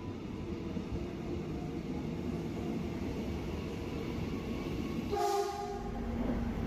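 A steady, rumbling hum from inside a moving airport train departing Batu Ceper station toward Soekarno-Hatta airport, with a brief tonal horn-like sound near the end.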